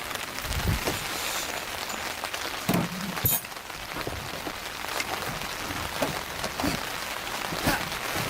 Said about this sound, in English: it's really coming down now